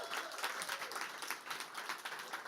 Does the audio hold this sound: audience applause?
yes